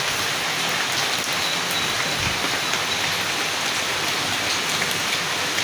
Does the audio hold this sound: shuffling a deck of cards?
no